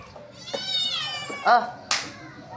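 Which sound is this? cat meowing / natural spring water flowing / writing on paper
cat meowing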